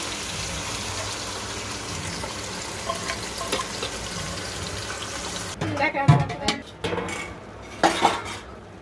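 Chicken frying in a pan for biryani, a dense steady sizzle for about five seconds, then a few clinks and scrapes of a utensil stirring it against the pan.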